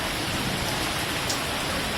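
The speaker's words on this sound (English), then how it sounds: "now it is raining successfully" Steady rain falls in Gurugram, India, a dense, even hiss of drops hitting surfaces with no pauses or other sounds.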